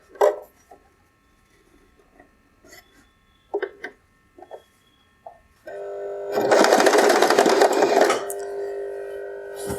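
A sewing machine stitches a fall onto a saree. Scattered soft clicks and handling come first, then the motor starts and runs in a steady, close, rattling whir until the end.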